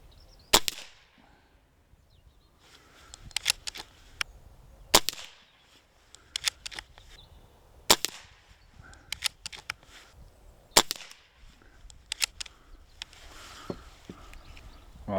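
A Stoeger XM1 air rifle fires at the range, with a series of sharp, distinct cracks spaced a second or two apart, over a quiet outdoor background with faint handling noise.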